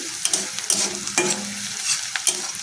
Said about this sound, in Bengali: পেঁয়াজটা যতক্ষণ না ভালোভাবে ভাজা হচ্ছে মানে হালকা যতক্ষণ না লাল ভাবটা আসছে